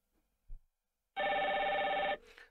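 After a soft thump, a telephone on a FreePBX/Asterisk phone system rings once with a bright electronic trill lasting about a second, followed by a faint trailing sound. Quiet otherwise.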